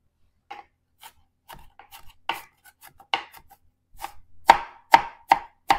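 A Bestarisa knife minces onion on a Val Cucina cutting board with a run of crisp chopping taps, sparse at first and then louder and quicker, close by with no talk.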